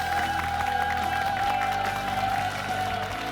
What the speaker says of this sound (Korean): 이정식 장관을 여러분 큰 박수로 환영해 주십시오